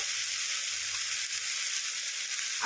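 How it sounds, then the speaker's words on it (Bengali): A spice paste with tomato and onion sizzles steadily in a pan, a soft continuous hiss and crackle heard up close without talking. "টমেটো, পেঁয়াজ আর বাটা মশলা বেশ ভালো করে ভাজা হচ্ছে"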